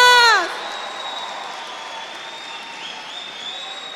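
A church congregation at a revival conference claps steadily, a dense, even wash of applause that carries on under a sustained high ringing tone after a sharp opening burst.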